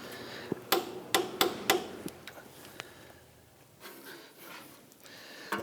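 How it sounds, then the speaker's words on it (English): A torque wrench tightens a differential bolt on a 2006-2010 Hummer H3 3.7L, giving a quick series of sharp metallic clicks close up, then quieter shuffling and a few faint knocks. "Torque down the bolt to the differential to 46 foot-pounds."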